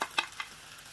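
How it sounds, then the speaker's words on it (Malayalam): Thinly sliced onion frying in about half a teaspoon of hot coconut oil in a pan, giving a faint, brief sizzle with a few soft stirring scrapes. "ഇനി ഇതിലേക്ക് 1-2 ടേബിൾ സ്പൂണോളം നേരിയതായിട്ട് മുറിച്ച സവാള ചേർത്ത് കൊടുക്കാം"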